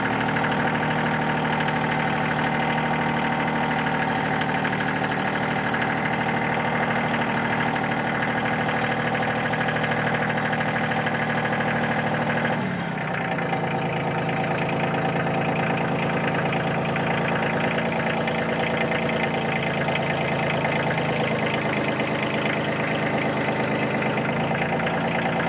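A tractor engine idles steadily and loudly throughout, a constant mid-to-low rumble with a slight knocking texture that shifts briefly midway before settling back into the same even idle.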